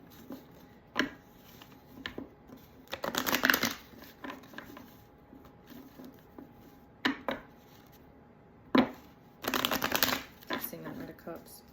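A tarot card deck is shuffled in several short, crisp riffling bursts, close by, with a person talking between and over the shuffles.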